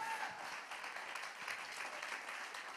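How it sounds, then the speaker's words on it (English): Church congregation clapping during a sermon, a sustained even patter of many hands filling the sanctuary, fairly soft and continuous, with a brief voice at the very start. "clap their hand like you really believe it."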